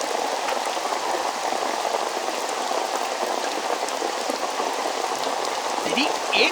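Steady heavy rain pouring down outside a small shop, a dense, even hiss of drops on surfaces throughout, with no voices heard.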